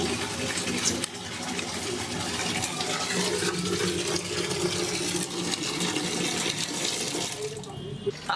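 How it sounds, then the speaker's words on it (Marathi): Steady rushing of water pouring from a tap, continuous and close for several seconds, with a brief dip near the start and end. "हा नळ चालू केला"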